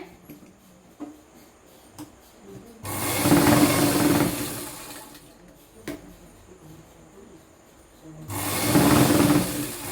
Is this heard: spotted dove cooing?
no